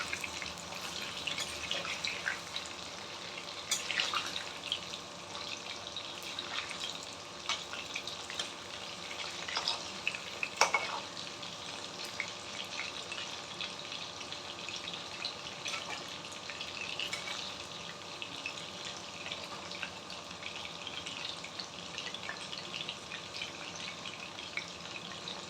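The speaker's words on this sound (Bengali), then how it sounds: "তো বন্ধুরা, আমার পকোড়াটা মোটামুটি ভাজা হয়ে এসেছে।" Pakoras fry in oil with a soft, steady bubbling sizzle and occasional crackles and clinks, quiet and continuous for a long stretch without speech.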